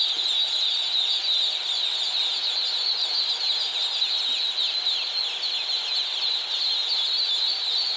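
One-day-old ducklings crowded in a box give a continuous chorus of high, shrill peeping, steady and fairly loud, with no talking over it.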